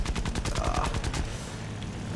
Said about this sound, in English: Only has some little machine guns to work with.